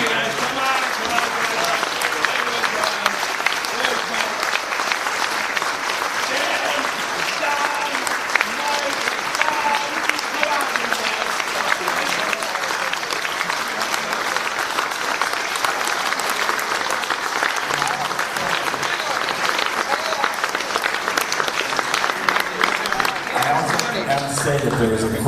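A large audience at an Amiga history panel breaks into sustained, dense applause that stays loud and steady throughout, with cheers and voices mixed into the clapping.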